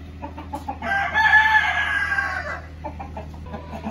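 A rooster crows once in a long, loud call lasting over a second, with soft clucking and small bird sounds before and after.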